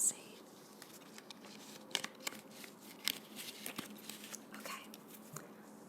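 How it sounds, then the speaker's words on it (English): Tarot cards are shuffled by hand in soft, crisp riffles and taps, quiet and close, with a few sharper flicks, while a voice speaks now and then. "I think that's shuffled enough."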